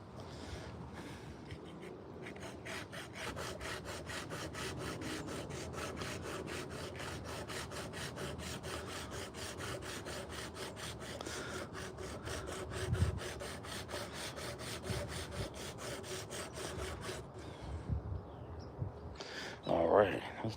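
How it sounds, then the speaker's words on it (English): A belt sander hums steadily with a fast rasping texture as it shapes a carved wooden spoon, continuing for most of the stretch at moderate distance with brief louder bumps, then stopping near the end. "We got our little old piece of"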